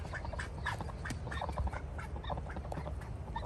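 Ducks at a duck pond quack in a quick, overlapping series of nasal calls, fairly close and continuing for the whole stretch.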